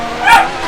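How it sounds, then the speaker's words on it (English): A single short dog bark or yip from pet dogs in a home, close and loud, heard alone. "sorry in advance if you hear any of my dogs barking"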